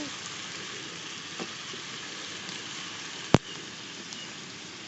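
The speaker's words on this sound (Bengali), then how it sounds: "এই গোস্তটা আমি এখন আলুটা দিয়ে দেবো" Chicken and potatoes fry in a pan, giving a continuous even sizzle like light rain, with one sharp knock partway through; no one speaks over it.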